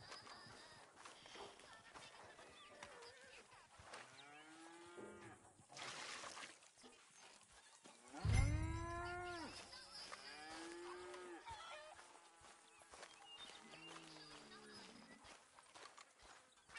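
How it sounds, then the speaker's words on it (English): A cow in Red Dead Redemption 2 lets out a loud, long moo near the middle, with hooves clopping and a person talking around it. "Why is this cow out here?"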